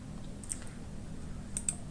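A few sharp clicks from a computer mouse being left-clicked while deleting a folder in the Windows Recycle Bin, spaced irregularly over a quiet low hum, with one click early and a close pair near the end.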